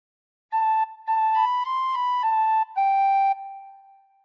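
Tin whistle playing a phrase of the hymn Be Thou My Vision: a handful of clear, pure high notes in a slow melodic line, the last one held and gently fading, solo with no voices.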